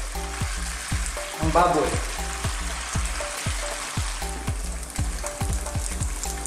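Tofu fries in hot oil with a steady, close sizzle and crackle, while a rhythmic thumping background plays underneath and a voice speaks briefly.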